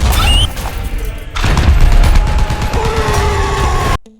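A heavy tank cannon in the War Thunder video game fires with a loud, sharp boom and a rumbling, ringing tail, followed by mechanical clanking before the sound cuts off abruptly.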